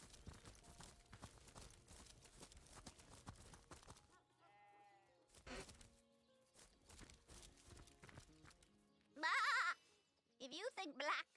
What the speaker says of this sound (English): a pen guarded by a rather lonely little sheep